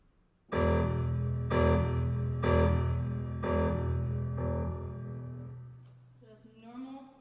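Piano keys struck as a cluster while pressed under a felt muting strip, heard in a lecture on George Crumb's Metamorphoses Book II: about four dull, thudding chords in a steady pulse, then a short fading tail.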